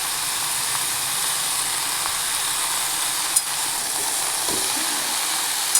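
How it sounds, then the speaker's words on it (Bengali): Capsicum and brinjal fry in a pan with a continuous dense sizzling hiss, close and even throughout, with faint occasional clinks of stirring. "ভালো করে একটু ভাজা ভাজা হয়ে যাক।"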